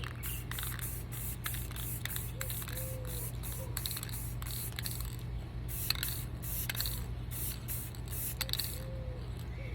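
Spray paint from a can being misted over a tumbler, heard as rapid, repeated short hissing bursts over a steady low mechanical hum, fairly quiet and with no talking.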